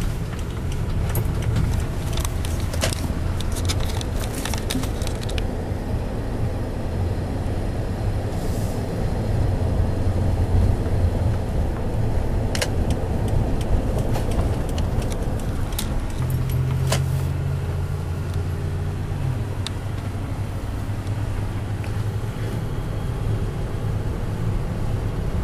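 A 2001 Toyota Sequoia with 143,330 miles and a rebuilt transmission cruises along a road, giving a steady low road and engine rumble from inside the cabin. Faint rattles and clicks come through occasionally.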